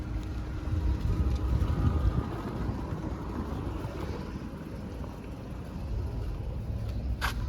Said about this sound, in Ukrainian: Дуже рівненько двигунчик працює.